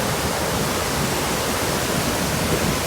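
Elephant Falls waterfall in Da Lat, Vietnam roars as a dense, constant broadband rush of falling water, loud and close with no pauses or voices.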